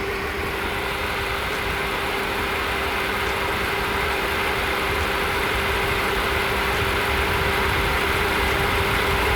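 A used car's engine idles steadily during an inspection for blow-by, with a constant low hum and mechanical drone, close and unchanging throughout, with no speech.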